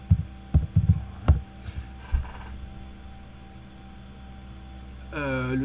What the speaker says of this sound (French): Le son qu'on entend, c'est ton ventilo.